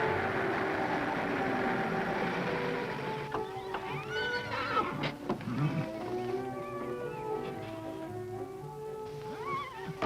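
A horse named Fury whinnies loudly and close, a long shrill neigh that wavers and trails off over hoof shuffling and low rumble on an outdoor range.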